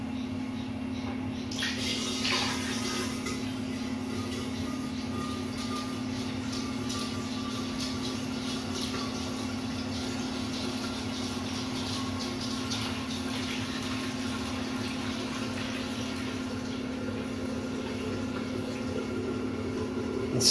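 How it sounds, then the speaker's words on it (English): Homebrew beer wort pours slowly through a taped-on funnel into a primary fermenter, a steady continuous rush of liquid over a constant low hum for the whole stretch. "You slowly pour your wort in."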